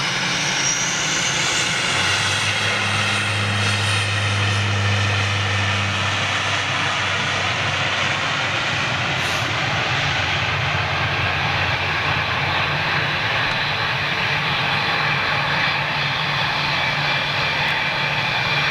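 Boeing 747 jet engines at Manchester give off a continuous, powerful roar, loud and unbroken, with a low drone and a brief rising whine early on.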